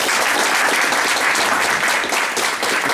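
A crowd at a political party meeting gives a loud, dense round of applause, steady sustained clapping filling the room with no speech over it.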